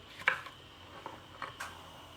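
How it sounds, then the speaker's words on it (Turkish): A few sharp knife chops through whole peppers on a cutting board, one louder strike followed by three softer, spaced cuts in a quiet room. "Şimdi bunları hiç ortadan da bölmeden şu ebatlarda doğruyorum."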